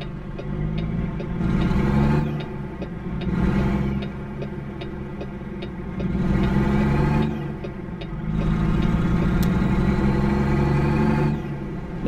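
A truck engine in American Truck Simulator idles and then revs repeatedly while pulling out, its steady mid-pitched drone swelling and falling in several surges with a regular ticking underneath.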